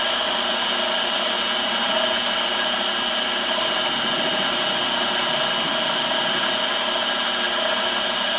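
A Harbor Freight mini lathe, partly rebuilt, runs steadily with a rough, whining mechanical tone and a faint high squeal drifting through; constant level, close by, no speech.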